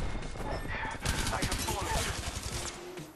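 Rapid bursts of gunfire in an Apex Legends match rattle out in quick succession, loud and close, layered over game effects and a faint voice underneath.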